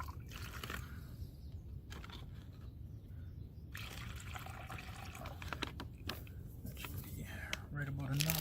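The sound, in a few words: water poured into Omeals turkey chili meal pouch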